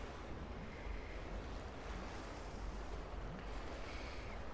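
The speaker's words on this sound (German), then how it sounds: "Na gut, dass das Wasser wieder steigt." Rising water in the flooded old bathhouse of the video game Rise of the Tomb Raider, a steady broadband rush and churn of water that keeps up without break for the whole clip, moderately loud, with no voices over it.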